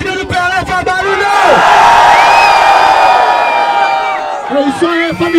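A live crowd at a freestyle rap battle event roars, whoops and shouts in a sustained swell of cheering that peaks midway and then tapers, loud and close with many overlapping voices.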